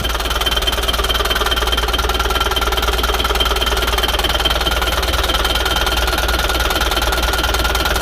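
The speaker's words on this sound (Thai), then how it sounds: "สิบปีครับสตาร์ทครั้งเดียวติดเลยครับ" An engine idles steadily after being started for the first time in ten years of sitting unused, a loud, even mechanical clatter with a faint knocking rhythm running unbroken throughout, no voices.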